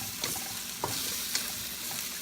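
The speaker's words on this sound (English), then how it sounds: "Let's give it a stir." Lechon kare kare with string beans is stirred in a cooking pot, a steady sizzle with a few soft spoon scrapes and knocks near the pot, no voices.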